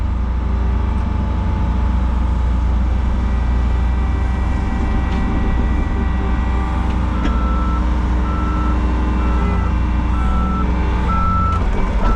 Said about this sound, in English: Dump truck, doo-doo-doo, dump truck.